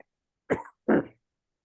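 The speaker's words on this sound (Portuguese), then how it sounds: "Eu estava assim com essa tosse." Two harsh coughs close up, one right after the other, separated by brief silence.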